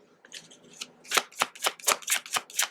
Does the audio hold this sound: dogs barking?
no